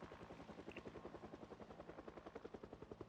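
Helicopter in the Project Zomboid video game, its rotor thumping in a steady rapid chop throughout, moderately close and continuous with no talk.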